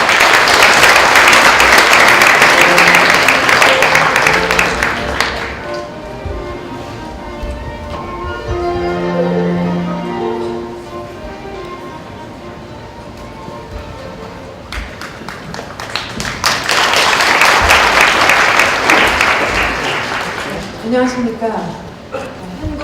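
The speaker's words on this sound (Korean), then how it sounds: "저희 원장님께 박수 부탁드립니다." Formal forum audience applauding the institute director: a loud wave of clapping at the start, a quieter stretch with a voice speaking, then a second strong burst of applause near the end.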